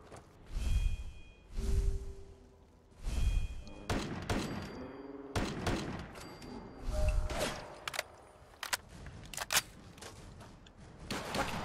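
Grenade blasts in the Fallout 4 game, several heavy booms about a second apart in the first stretch, then a busy run of gunfire, thuds and whooshes, all loud and close.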